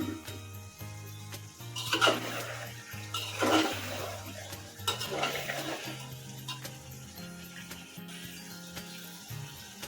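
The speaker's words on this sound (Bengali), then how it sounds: "আবারও সুন্দর করে কিছু সময় কষিয়ে নিয়ে নেব আমার মাংসটা" Spicy layer-hen chicken curry is stirred and braised in a pan, with bursts of scraping and stirring over a low background sizzle, fairly quiet throughout.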